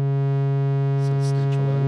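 Voltage output from a Multiple Arbitrary Function Generator Model 248 modular synth module, a steady buzzy pitched tone rich in harmonics that runs unbroken, with faint shifting timbre near the end.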